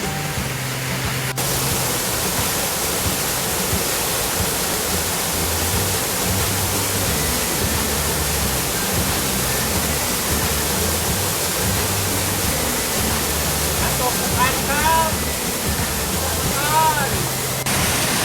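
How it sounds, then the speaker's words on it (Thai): Sapan waterfall in Nan province, Thailand, roars as a loud, continuous broadband rush of falling water heard from close by, with someone speaking over it. "ดูนะครับเราก็อยู่ท่ามกลางน้ำตกนะครับ"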